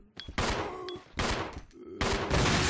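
Gunfire in Resident Evil 0 HD, firing at zombies: three loud separate bursts of shots with brief gaps between them, close and forceful.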